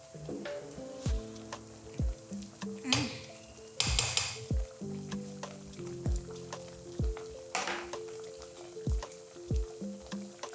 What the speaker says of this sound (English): And then we're going to stir.